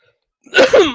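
A single close, loud sneeze bursts out abruptly after a half-second of silence, with a sharp intake and a voiced expulsion.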